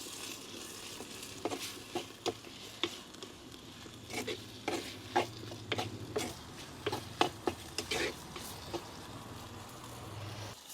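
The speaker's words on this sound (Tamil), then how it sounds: "எல்லாத்தையும் நல்லா கிளறிடுவோம்" Tomatoes and maasi sambal stirred in a cooking pan, with a spoon scraping and tapping the pan in quick uneven strokes over a steady low sizzle, close up and without talk.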